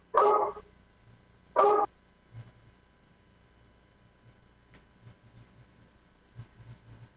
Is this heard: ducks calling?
no